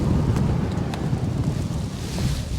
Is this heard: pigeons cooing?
no